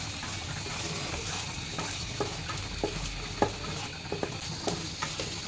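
A bay leaf and dried red chillies crackle and sizzle in hot oil in a home kitchen, a steady close frying hiss broken by small pops and occasional stirring clicks.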